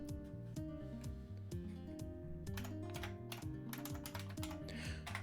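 A computer keyboard clacks in quick, uneven bursts of close, soft keystrokes, heard faintly under a steady background hum.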